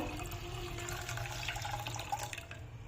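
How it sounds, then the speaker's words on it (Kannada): Milk pours into a pan for a rose milk recipe, a steady liquid splashing stream, close and fairly even, tapering off near the end with no voices. "ಒಂದು ಪ್ಯಾನ್ಗೆ ಹಾಲು ಹಾಕ್ಕೋಬೇಕು"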